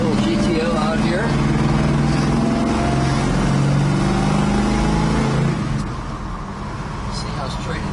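A 1965 Pontiac GTO on the road, its engine note droning and rising under acceleration, heard from inside or near the car with a loud steady roar that eases near the end, while someone talks over it.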